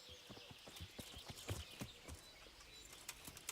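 Horse hooves clip-clop at a steady walking pace in Kingdom Come: Deliverance, faint and somewhat distant over soft outdoor ambience with light bird chirps.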